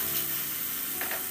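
Two finely chopped onions fry in about two ladles of hot oil in a wok, giving a steady, soft sizzle with faint stirring throughout, and no voices.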